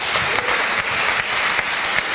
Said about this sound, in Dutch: Laten we nog één keer warm applaus